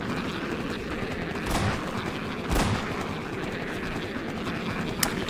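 Grigori fires at zombies in Half-Life 2's Ravenholm, three or four sharp gunshots cracking out over a steady rumbling game ambience, spaced a second or so apart.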